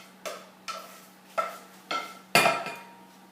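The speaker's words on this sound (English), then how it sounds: "And now I can put my onions" Chopped onions tipped into a bowl in a home kitchen, heard as a series of five sharp clattering knocks against the bowl, the last one loudest, each followed by a short scatter of rattling pieces.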